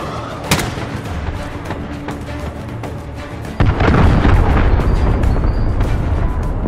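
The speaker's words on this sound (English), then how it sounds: "Allied cruise missile away." A cruise missile explosion in the Call of Duty: Modern Warfare game: a sharp early crack, then a loud sustained rumbling blast from about midway, with dense battle noise throughout.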